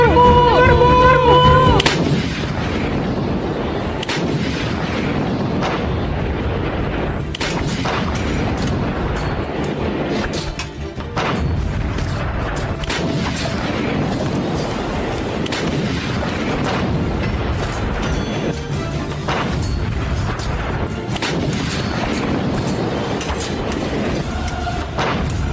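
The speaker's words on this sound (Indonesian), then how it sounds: "Dentuman meriam mengguncang lautan di Teluk Haru." Heavy cannon fire booms again and again in a dense, chaotic battle barrage, loud and continuous with deep thuds over rumbling noise, from a staged school drama of a naval battle in Haru Bay.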